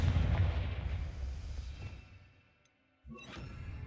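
A Confringo fire spell bursting in a Harry Potter video game, a loud booming explosion that rolls and fades into near silence, then a sharp second blast with a whooshing rumble after it, no talking.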